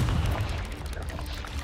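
A Confringo blasting spell explodes in Hogwarts Legacy, a deep booming burst with low rumble fading into combat noise, loud at the start and tapering off.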